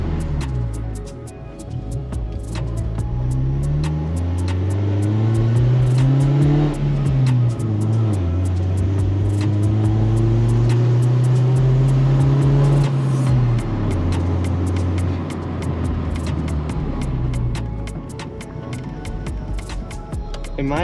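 A Honda Civic travels over a rough, uneven road, with a steady engine hum that rises and eases across the stretch and thumps and rattles from the surface underneath. No one speaks.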